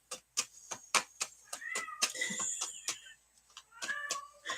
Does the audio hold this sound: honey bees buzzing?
no